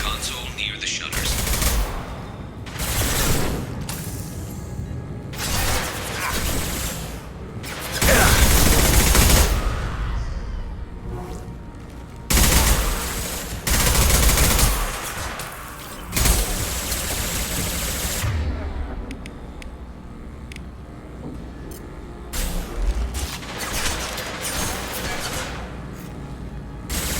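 Video game gunfire from Mass Effect 2, with dense bursts of shots and booms that rise and fall through a long firefight. The loudest volleys hit in heavy clusters over a steady bed of battle noise.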